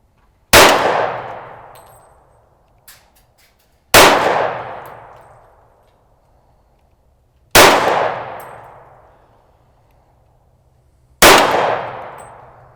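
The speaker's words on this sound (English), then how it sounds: "let's see what we're doing with this gong out here" Four pistol shots strike a steel gong target outdoors, each a sharp loud crack followed by a long ringing metallic clang that fades over several seconds, spaced a few seconds apart.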